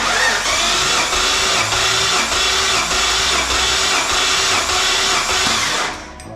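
Turbocharged engine with a freshly forged block cranking over on the starter for a compression test, a loud, rhythmic whirring with even pulses that stops abruptly.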